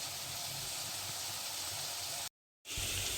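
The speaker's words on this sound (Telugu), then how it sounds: "అల్లం పేస్ట్ వేసాను కదా కొంచెం వేగాలి" Ginger paste sizzling in a hot pan while cooking ridge gourd curry, a steady close broadband hiss that cuts out briefly near the end and then resumes.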